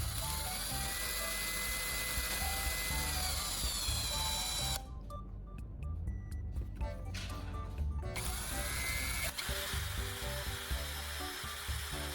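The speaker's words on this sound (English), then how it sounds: "I attach the lead core to a drill and shape the tip" High-pitched whine of a small drill spinning a lead core to shape its tip, spinning steadily, briefly cutting out for a few seconds before spinning up again, close and continuous.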